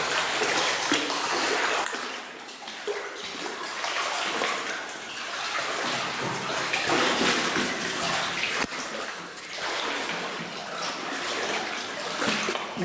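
Boots wading through water inside the abandoned 910-meter Tramway bore tunnel in Greenwood, continuous sloshing and splashing in an echoing enclosed space, surging in rhythmic waves with each step.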